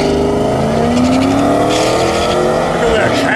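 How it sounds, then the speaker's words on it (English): A Cadillac racing down a drag strip late on a Friday night at St Thomas Dragway, its engine roaring loud and close with rising revs and tire noise throughout. "Look at that Cadillac go"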